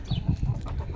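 Free-range chickens on a farm cluck and squabble in a dense, close flurry of short calls that runs for about a second with no talk.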